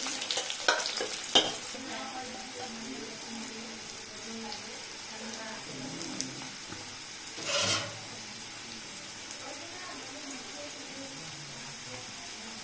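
Boiled, salted potato pieces frying in mustard oil with a soft sizzle, occasional stirring scrapes and a short louder burst midway, fairly quiet and close.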